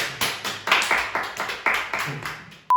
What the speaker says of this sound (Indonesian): Tepuk tangan dong buat Kak Orman